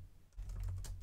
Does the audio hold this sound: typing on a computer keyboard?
yes